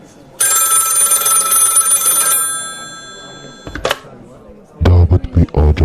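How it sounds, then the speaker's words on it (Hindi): An old-style telephone bell rings in a long shrill burst, then stops; a few thumps and a voice follow near the end. "11 बजे फोन की घंटी बजी।"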